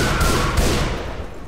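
Rapid gunfire from the Left 4 Dead 2 co-op zombie shooter, set in the Dead Center campaign's alleys, rattling as a dense, continuous volley at close range with no voices over it.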